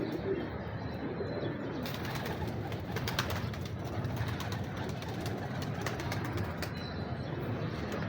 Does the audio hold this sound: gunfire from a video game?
no